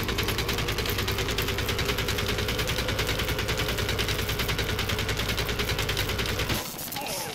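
In Plants vs Zombies Garden Warfare, a rapid, continuous stream of automatic gunfire rattles loudly for over six seconds in an even rhythm, then cuts off abruptly, leaving quieter game ambience.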